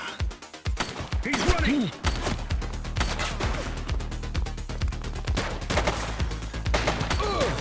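Gunfire in The Precinct, a police action game: rapid, loud shots and bursts crackling steadily through the clip, with shouted voices mixed in.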